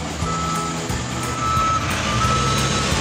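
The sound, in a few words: heavy road roller moving back and forth with reversing beeps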